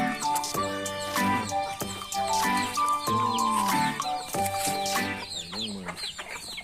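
Several chickens cluck close by in short, repeated bursts, overlapping one another with occasional higher squawks.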